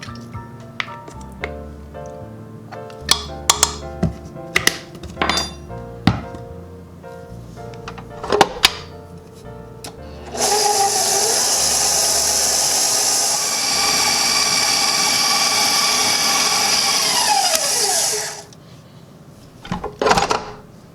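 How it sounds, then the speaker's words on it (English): An electric mixer whirs loudly and steadily for about eight seconds while creaming butter and sugar, preceded by scattered clinks and taps and ending with a few knocks. "gonna cream this moist butter and this incredibly privileged sugar together"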